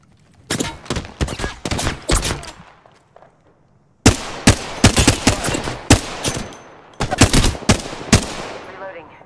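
Rapid automatic gunfire in the battle-royale shooter Apex Legends comes in three loud, close bursts of quick cracking shots separated by short pauses.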